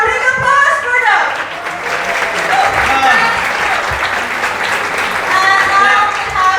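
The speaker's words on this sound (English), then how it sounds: "Once more, big applause for them." Loud, sustained audience applause at a university student arts event celebrating Indonesia, a dense crowd clapping continuously with voices cheering and talking over parts of it.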